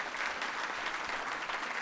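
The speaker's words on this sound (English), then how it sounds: "Let me give him a round of applause" Steady, dense applause from a dinner audience at a county officials' legislative conference, filling the room evenly and continuing without a break.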